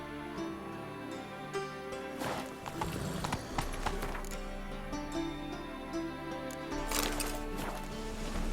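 Horse hooves gallop in a steady clip-clop rhythm in Witcher 3, loud and close, with a few louder thuds and a brief whinny-like burst.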